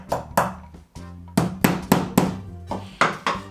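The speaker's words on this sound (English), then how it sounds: "Give it a couple taps with the hammer." A hammer taps metal hooks into a wooden barn sign, about eight sharp, ringing knocks spaced unevenly, loud and close, with no talking.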